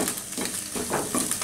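An egg is broken into small pieces in a hot pan for Chinese chicken fried rice: a spatula scrapes and stirs in quick strokes over a lively, close sizzle, with no talking.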